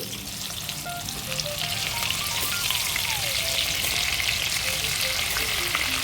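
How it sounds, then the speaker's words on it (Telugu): Stuffed brinjals with cumin and curry leaves fry in hot oil in a pan, giving a steady, dense sizzle that runs evenly throughout without any talk. "వంకాయలు వేసాక ఒక ఫైవ్ మినిట్స్ ఆయిల్లో బాగా ఫ్రై చేసుకోవాలి"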